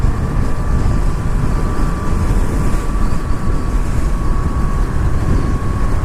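Yamaha R3 motorcycle cruising at highway speed in sixth, its top gear: a steady, loud engine drone with heavy wind roar and a constant whine, unbroken and without speech.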